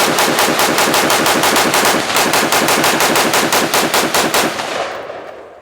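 Rapid sustained gunfire from a Law Tactical ARIC rifle rips through a full magazine as a loud, evenly spaced stream of close shots that stops abruptly and leaves a short fading echo.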